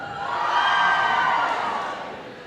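Crowd cheering and shouting at a live event, a broad sustained roar that swells then slowly fades over a couple of seconds.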